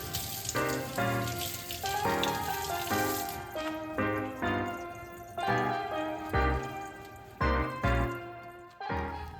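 Garden herbs rinsed under a running kitchen tap, water splashing and pattering in uneven pulses as the leaves are moved through the stream, with faint clattering and a musical bed underneath.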